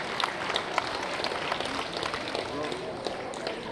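Audience applause at a ceremony honouring Krotoszyn Olympians Robert and Radosław Baran, a steady, dense wash of clapping that continues throughout with no break.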